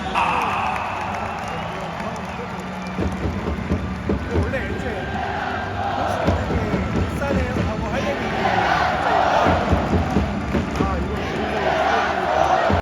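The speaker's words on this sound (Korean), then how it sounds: "더큰 박수로 힘을 주시면 좋겠습니다" Stadium crowd noise at a K League football match between FC Seoul and Pohang Steelers, a broad roar of clapping and cheering fans that swells gradually, heard under a nearby person talking.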